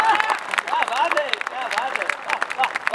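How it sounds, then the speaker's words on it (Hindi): Audience applause at a Hindi-Urdu kavi sammelan poetry recital, a dense patter of many hands clapping steadily throughout, with crowd murmur and a voice speaking over it. "मुझे आपसे इतनी तालियों की भी उम्मीद नहीं थी जितनी आपने बताई।"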